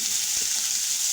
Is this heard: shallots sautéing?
yes